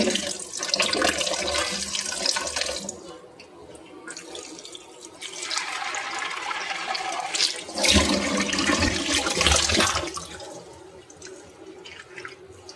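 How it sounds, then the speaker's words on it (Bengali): Tap water runs in a kitchen sink while store-bought food is rinsed several times, the flow loud and steady with splashing surges and brief dips between washes, no voices. "তো চলুন এটাকে ভালো করে বেশ কয়েকটা বারের জন্য ধুয়ে ফেলি।"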